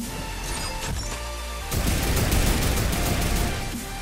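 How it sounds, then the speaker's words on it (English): A turret in Fortnite fires in rapid bursts, dense overlapping gunfire and impacts rising into a sustained loud barrage partway through, with no talk. "I'm gonna use their fucking turret right here."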